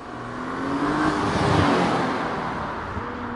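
An Audi RS5 with a 450 hp V6 biturbo engine drives along a mountain road, producing a steady, fairly loud engine drone that swells and then eases slightly, heard from close by without talk.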